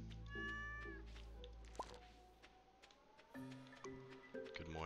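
Cartoonish cat meows from the Stardew Valley farming game, a few clear mews over soft looping game music and chimes, fairly quiet overall.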